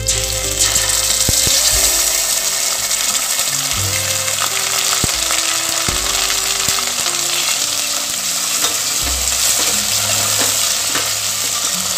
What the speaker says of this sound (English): whilst the onion is sauteing